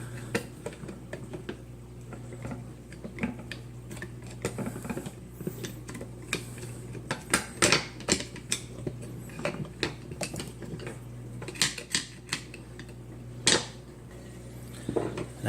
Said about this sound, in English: So I have my screwdriver in there. I'm going to remove that bolt.